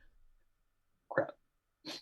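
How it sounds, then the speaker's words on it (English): One person sneezes quietly during a podcast, a short sharp burst followed moments later by a second brief breathy sound, both faint against near silence. "had to sneeze there"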